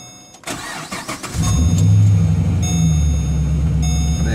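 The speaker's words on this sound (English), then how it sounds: "So let's hear it start up." A Holden VE engine with a 3-inch stainless custom exhaust cranks and fires up, then settles into a loud, deep, steady idle rumble close by.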